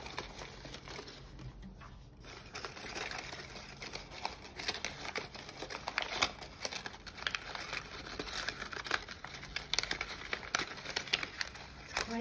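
Sheets of paper rustle and crinkle while being folded into an origami pumpkin ornament, a close, continuous papery crackle with irregular bursts that grows busier toward the end, with light talk mixed in.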